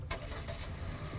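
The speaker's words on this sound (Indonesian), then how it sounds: "Nah, itu mesinnya udah nyala." A compact SUV's engine is started remotely, with a brief starter burst followed by a steady, low idle hum heard from nearby at moderate loudness, with nobody speaking.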